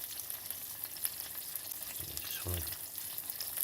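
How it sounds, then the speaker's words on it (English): Burgers frying in oil with pepperoncino, a constant close crackling sizzle with a brief stirring scrape, while a voice speaks a few words over it. "They're starting to cook and sizzle a little bit there."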